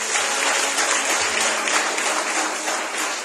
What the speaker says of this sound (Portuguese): Mais uma vez, aplauda Jesus.